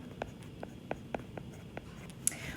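A pen scratches out a chemistry calculation on paper in quiet, close strokes: a handful of short, irregular taps and scrapes with gaps between them.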